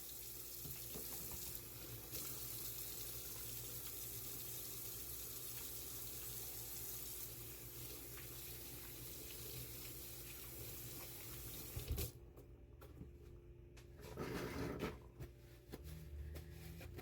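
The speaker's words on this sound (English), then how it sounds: "I'm going to wash my hands again. I'm going to use hot water." Hot tap water runs steadily into a sink with hands splashing under the stream, then the flow stops and a few faint rinsing sounds follow.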